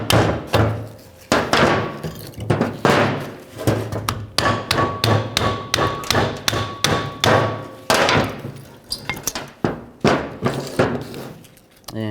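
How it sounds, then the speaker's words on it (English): A hammer repeatedly strikes stuck rear brake pads on a 1999-2007 Chevy Silverado 2500, producing dozens of sharp metallic knocks in an uneven rapid rhythm, close and loud. "Just use a hammer if they're stuck in there pretty good."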